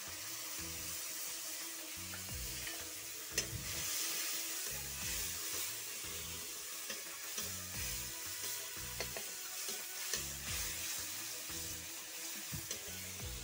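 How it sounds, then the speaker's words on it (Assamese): Onion and gram flour batter frying in hot oil with panch phoron, a steady close sizzle with a rhythmic pulsing undertone and occasional stirring clicks, continuous throughout with no talking. "তেলখিনি গৰম হোৱাতে আমি পাঁচফোৰণ দি দিলোঁ, পিঁয়াজখিনি দি দিলোঁ। বেহৰ পিঠাখিনি দি দিলোঁ।"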